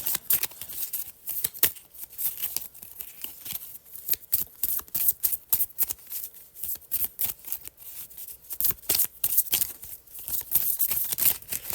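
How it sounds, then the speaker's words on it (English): A deck of cards is shuffled repeatedly, crisp riffling bursts and flicks continuing steadily at close range with no talking. "I'm going to shuffle right now."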